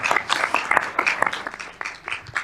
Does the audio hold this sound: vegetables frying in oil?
no